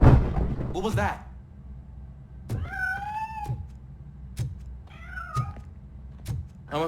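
Cat meows in the video game RoboCop: Rogue City, two clear drawn-out meows plus a shorter one, over low rumbling ambience with sharp periodic clicks, after a voice briefly at the start.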